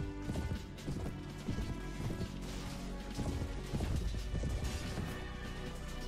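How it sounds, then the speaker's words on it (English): Horses gallop in a medieval battle in the video game Mount & Blade Warband, with dense overlapping hoofbeats, thuds and clashing impacts forming a loud, continuous battle din. "their cavalry is probably bursting into"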